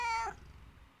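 One short cat meow on screen, clear and fairly close, tapering off quickly into a quiet background with no talk.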